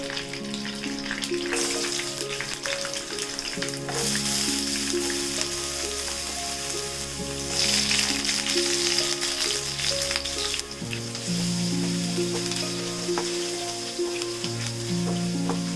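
Curry leaves, ginger, garlic and green chilli sizzle and crackle in hot oil for a Kerala lime pickle, a steady close frying hiss with music playing underneath.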